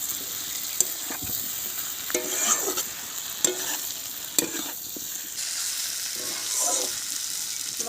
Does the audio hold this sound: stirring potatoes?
yes